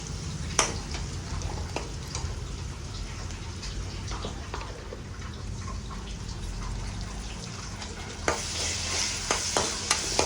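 Ginger-garlic paste sizzles in a pan as it is stirred for a bean curry, with a steady crackling fry and scattered scraping clicks from the utensil, the spatter briefly growing stronger toward the end.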